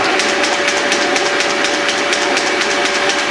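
A Pratt and Whitney lathe under restoration runs steadily at low back-gear speed, a loud continuous mechanical whir and gear rattle with a rhythmic ticking, close and unvarying, with no talk.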